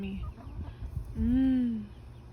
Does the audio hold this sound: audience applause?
no